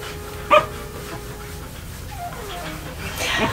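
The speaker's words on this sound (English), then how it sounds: "This fuzzy white pup, he is Yeti the Samoyed" A fuzzy white Samoyed dog gives one sharp, close bark, then a few softer whimpers and yips near the end, over steady background noise.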